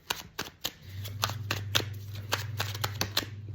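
Tarot cards are shuffled by hand in a quiet room, a string of crisp papery riffles and taps with short pauses, over a low steady hum.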